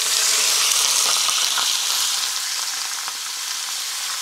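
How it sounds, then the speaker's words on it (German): Beef searing in melted lard inside a Dutch oven, cooking for goulash: a steady, loud, close sizzle and crackle that runs on without pause and eases slightly toward the end. "Da kommt unser Rindfleisch schon ins Spiel. Darf schön anbraten."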